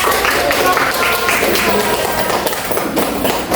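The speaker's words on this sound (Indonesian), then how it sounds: "Tepuk tangan semuanya." A classroom of students clapping during a microteaching lesson, a loud, close, fairly even patter of hands that slightly thins toward the end.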